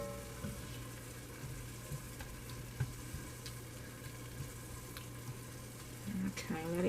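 Chicken sizzles steadily in a frying pan, a continuous close crackle and hiss with a few faint utensil knocks and a brief louder stir near the end.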